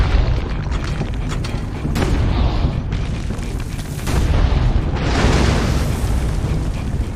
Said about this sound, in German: Ich zerstöre alle Kanonen.